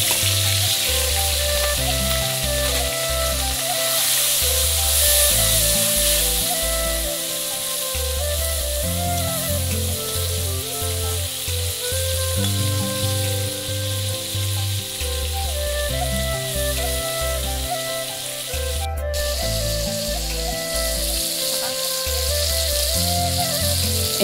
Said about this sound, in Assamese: হালধি নিমখ সানি এনেকৈ ধুনীয়াকৈ কেৰাহীত ভাজিবলৈ ল'লে।